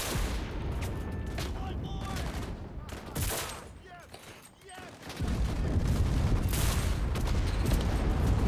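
Sustained automatic gunfire in the video game Enlisted, loud and continuous bursts with a short dip midway, then heavy firing resumes with booming impacts nearby.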